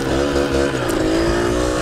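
A motorcycle engine drones steadily as the bike is ridden over rough ground. The engine note is close and continuous, with no speech.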